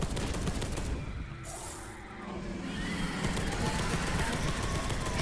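Gunfire in the video game Space Hulk: Deathwing, rapid bursts of automatic weapons firing over a busy battle din, loud and dense, dipping briefly before picking back up.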